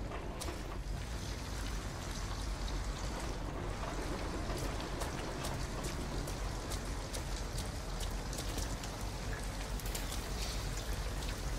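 Steady rain falls around an abandoned house in the Detroit: Become Human video game, a dense, continuous patter of drops with no voices.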